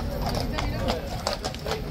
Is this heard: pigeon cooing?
no